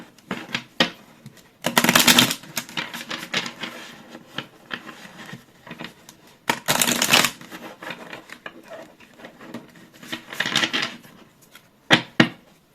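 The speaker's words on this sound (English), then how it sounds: "before we look at the oracle cards, let's shuffle" Repeated bursts of tarot cards being shuffled up close, crisp riffling rustles separated by quieter pauses and light tapping.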